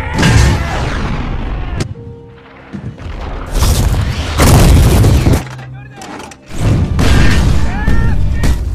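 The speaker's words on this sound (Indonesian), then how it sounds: "menembakkan meriam ke arah para samurai" Several deep, heavy booms ring out at irregular intervals, loud and close, each followed by a rumbling decay, with quieter gaps between them.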